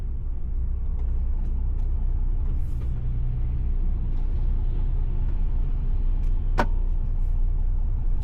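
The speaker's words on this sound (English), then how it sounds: "we got a truck coming down the lane as well" Heard from inside a truck cab on a narrow lane, an oncoming truck draws near under the steady low drone of the engine, with one sharp hiss or squeal standing out late and no speech.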